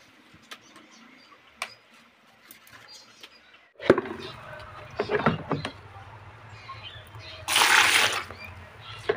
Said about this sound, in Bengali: আবারও মগের সাহায্যে আমি এই যে শ্যাম্পু দেওয়া জলটা পুরোটা বের করে নেব।